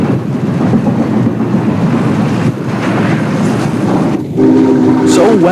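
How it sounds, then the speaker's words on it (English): Norfolk and Western class J steam locomotive running past a coal yard, a loud steady rumble of rolling train with a whistle blast near the end. "Returning to Roanoke, the J passes through an N&W coal yard."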